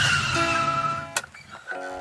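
A vehicle brakes suddenly as a story sound effect, a sustained tire squeal that cuts off with a short thump, followed by a brief quieter squealing tail.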